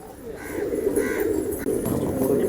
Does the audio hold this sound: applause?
no